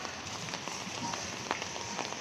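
Rain and hail falling outside a village mosque, a constant broadband patter with scattered sharp taps of hailstones, moderately quiet and steady.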